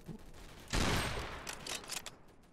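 A burst of loud gunfire in a Roblox D-Day shooter game erupts suddenly and then trails off into a rattling string of shots fading in the background.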